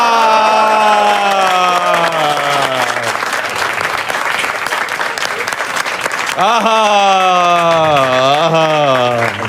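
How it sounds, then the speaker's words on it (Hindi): A live audience at a comedy poetry show bursts into loud, sustained applause that runs through the whole stretch, with a voice speaking over the clapping. "दोस्तों तालियां नहीं रुकनी चाहिए भाई"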